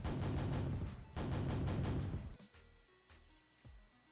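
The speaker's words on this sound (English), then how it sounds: "makes this little explosion over here" A small test explosion goes off in a development build of the game Ambient Energy, a loud rumbling double burst of booms followed by a fading, crackling tail with a few scattered low thumps.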